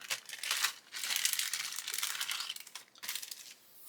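A resealable plastic bag holding small plastic model kit sprues crinkles and rustles close up in several bursts as it is handled and opened, with no voices.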